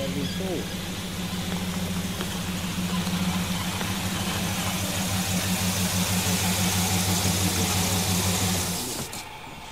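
A pickup truck engine idles steadily close by in a forestry setting, a constant low droning hum that runs nearly the whole time before cutting off near the end, with no talking over it.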